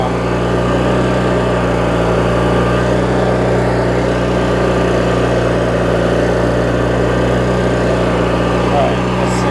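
A Briggs & Stratton opposed-twin engine on a Craftsman mower runs continuously at steady RPM, a loud, even drone close to the listener with no pauses or changes in speed.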